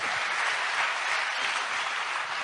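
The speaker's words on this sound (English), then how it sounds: "Give ourselves a clap." A crowd applauds steadily, dense clapping filling the whole stretch without a break.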